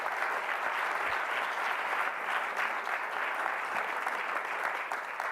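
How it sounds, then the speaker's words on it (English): A full round of applause from an audience at a democracy partnership event, thick continuous clapping at an even level throughout. "Let's give a round of applause to all of those commitments that were made today."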